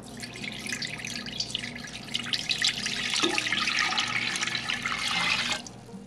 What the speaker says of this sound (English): Pour the vinegar into your large stainless steel pot.